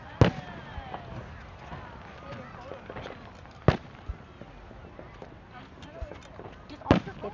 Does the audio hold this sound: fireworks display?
yes